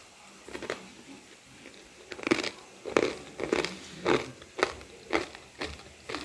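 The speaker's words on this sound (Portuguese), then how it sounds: "A crocância dessas batatas, tá vendo? Ficou bem soltinha aqui, tá bem sequinha. E tá bem crocante." Crispy homemade shoestring potato sticks crunch in a series of sharp, close bites and crackles, about eight distinct crunches spaced roughly half a second apart after a quieter start.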